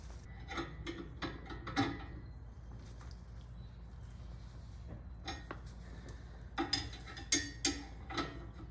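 Bolt on a ball joint separator tightened with a ratchet on a Mini Cooper suspension, quick bursts of clicking ratchet strokes in uneven groups, close and fairly quiet, with no speech.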